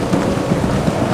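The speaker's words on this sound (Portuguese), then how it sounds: "Não é só chuva não, é uma ventania e tanto aqui." Heavy rain and strong gusting wind sweep a football stadium during a Brazilian league match between São Caetano and Grêmio, a loud, constant roar with wind thumps on the microphone and no talk.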